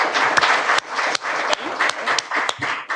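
A crowd applauds election candidates at a League of Women Voters event, with brisk, loud clapping from a sizable audience that continues steadily through the short stretch.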